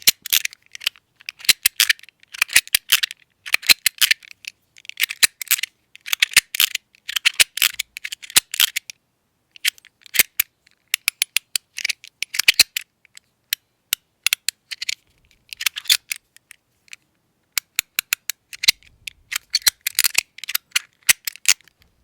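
Cyborg Soul ratchet and magnetic slider fidget toy by ProxyEDC worked by hand up close, giving sharp crisp clicks and snaps in quick irregular bursts separated by short pauses, with no talking.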